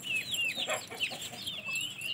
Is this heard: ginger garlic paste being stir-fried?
no